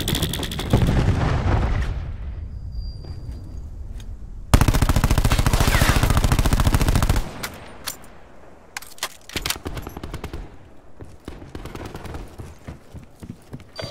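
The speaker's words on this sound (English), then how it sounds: "Cluster grenade going out." Gunfire and explosions from the Call of Duty: Black Ops 4 video game, with a cluster grenade blast: sustained loud automatic fire bursts, then sharp scattered shots tapering off near the end.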